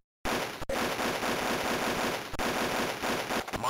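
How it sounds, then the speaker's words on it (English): Sustained automatic rifle fire in the Army Men Game Boy Color game, a loud continuous rattling burst lasting several seconds with brief breaks, heard alone. "An auto rifle."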